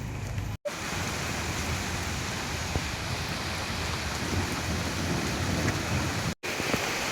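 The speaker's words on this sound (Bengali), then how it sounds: "বাপরে বাপ, এ তো ভীষণ জোরে বৃষ্টি হচ্ছে।" Heavy rain pours down steadily during a storm after a power cut, with a dense continuous roar of drops and low rumbles of thunder underneath, no voices.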